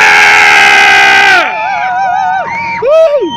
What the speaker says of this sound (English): I need everyone yelling and screaming for Bruno, please.